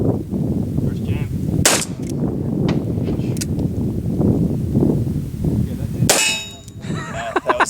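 A Ruger SP-101 revolver fires .357 Magnum rounds outdoors, sharp loud cracks with ringing metallic echoes, a couple of distinct shots spaced seconds apart over wind and background noise.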